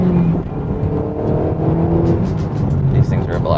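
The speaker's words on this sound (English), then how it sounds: "Now that you know what the car sounds like" A turbocharged Mazda pulls hard under acceleration, the engine's droning harmonics climbing steadily over heavy road and wind noise inside the cabin, with a voice speaking over it.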